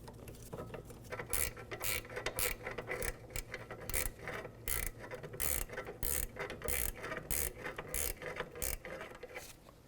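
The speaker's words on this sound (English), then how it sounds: "Might need the extension with the socket to really get this started here." Ratchet with a socket extension tightening a rear brake caliper bolt on a 2005-2009 Subaru Outback, rapid clicking bursts in repeated strokes, close and clear, with no voices.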